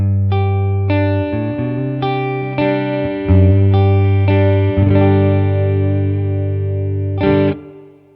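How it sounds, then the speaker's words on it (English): Electric guitar through an amp miked in a room with the amp's spring reverb switched on, playing sustained distorted chords with repeated strums and a reverberant tail, loud and close throughout. "this now is the amp in the room, exact same setting, mics, same positions, everything exactly the same as the profile, except that the reverb's been put on the amp"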